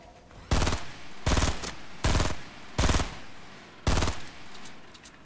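Five loud bursts of rapid automatic gunfire in Fortnite Battle Royale, short, evenly spaced volleys, close and harsh over a low background hum.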